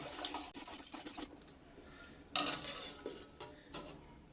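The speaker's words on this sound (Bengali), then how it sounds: "ভাতটাকে এখন চালটাকে আর কি এরকম করে একটু নাড়তে হবে" A spoon scrapes and clinks against a cooking pot as rice is stirred with cardamom, cinnamon and bay leaves, making irregular close scratches and taps with one sharper clatter midway and no talk.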